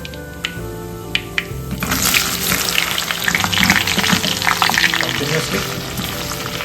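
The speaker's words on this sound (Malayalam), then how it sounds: "നമുക്ക് ആദ്യം തന്നെ നമ്മുടെ ഓക്ര ഫ്രൈ ചെയ്തെടുക്കാം കേട്ടോ." Okra frying in hot coconut oil: a loud, dense sizzle swells up after a quieter start and holds steady, broken by scraping stirs, with a few words spoken over it and a low musical background.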